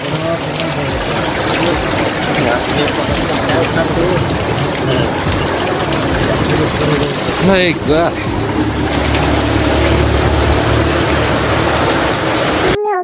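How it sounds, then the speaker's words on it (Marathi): Steady rain falls throughout, a dense hiss of drops hitting a surface, with a brief chirping bird call in the middle. "पाऊस लवकर थांबत नाही आता"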